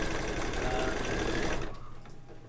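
An embroidery machine stitches a tack-down layer in a fast, steady mechanical patter, close and loud, then cuts off abruptly and leaves a quiet room hum.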